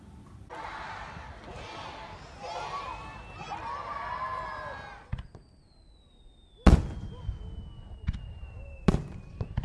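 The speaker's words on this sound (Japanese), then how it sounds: "花火、 花火でございます。" Summer fireworks go off with whistling rockets followed by sharp, booming bursts, some near and loud, as a crowd cheers and children shout in the background.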